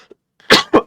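A person coughs twice in quick succession, loud and close, after a faint throat sound, during a spoken Hindi tutorial about the NHPC JE Civil syllabus.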